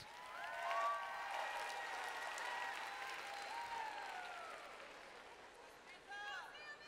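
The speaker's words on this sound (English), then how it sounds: "Let's give a round of applause to all of our national chapter finalists." Audience applauding national chapter finalists at a state FFA conference, a sustained wash of clapping from a large crowd that rises early, holds steady and thins toward the end, with a few voices and whoops over it.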